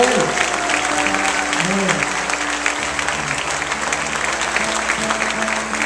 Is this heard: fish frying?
no